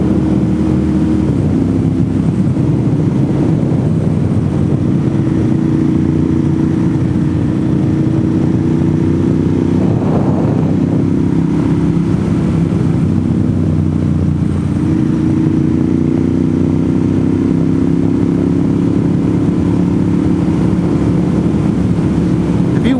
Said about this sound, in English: I'm pretty sure we're the only motorcycle that you're going to see in this video on this road.